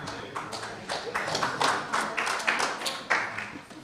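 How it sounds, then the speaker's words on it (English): Small conference audience clapping for a speaker introduced at an energy and water policy session, scattered individual claps building into a brief patchy round of applause, fairly close and moderately loud. "You guys don't have to clap until after you hear me."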